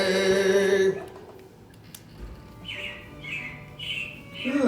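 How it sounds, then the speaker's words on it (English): Robins in an animatronic stage show chirp in a short series of bright repeated calls after a sung passage fades, moderately loud against a quiet indoor theatre background. "It looks like the Robins are getting ready to celebrate Valentine's Day today"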